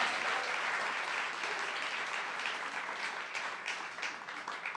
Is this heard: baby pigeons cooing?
no